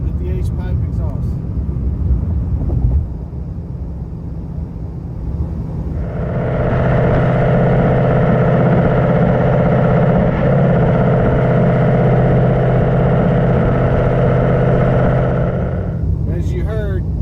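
Cabin of a 2019 Ford Mustang GT with an H-pipe exhaust in normal mode at highway speed: a steady droning engine and exhaust hum with road roar fills the interior, building from about six seconds and holding loudly, with brief talk at the start.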